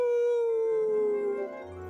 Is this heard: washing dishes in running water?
no